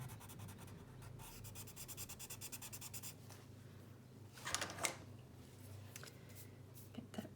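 Alcohol markers and coloured pencils working over paper, a quiet run of rhythmic scratchy strokes with a few brisker rubbing bursts, close and faint.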